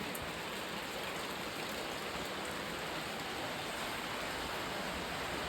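Heavy rain pours steadily beside a house veranda, a dense continuous hiss with no breaks, loud and close throughout.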